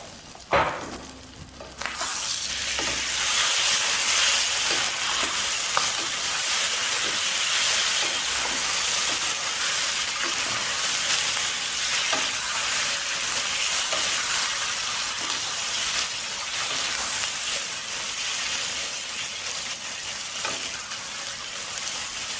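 Tomato puree simmers with beef tongue in a pan over a medium flame, giving a steady, close frying sizzle and hiss that runs unbroken throughout.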